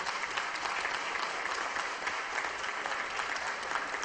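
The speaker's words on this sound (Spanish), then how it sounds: "quiero un voto de aplauso" Steady applause fills a legislative chamber in Peru after a call for a round of applause, dense even clapping throughout, moderately loud with no pause.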